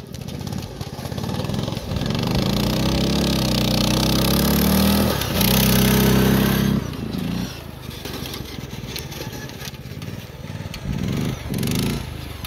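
Racing lawn mower tractor engine at the beach, a loud buzzing motor that climbs and holds a high rev, then drops and surges again in uneven bursts, close to the listener.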